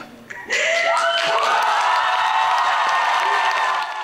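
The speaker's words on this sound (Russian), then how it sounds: "Под бурные аплодисменты и конфетти со сцены педагогического университета" Loud applause and cheering sweep across an award ceremony stage at a pedagogical university as a student is named student of the year, a dense crowd roar swelling after a brief quiet start and holding steady.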